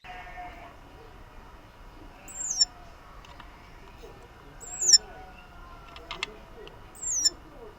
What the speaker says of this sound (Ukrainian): птах потроху оговтується і вже починає захищатись від сторонніх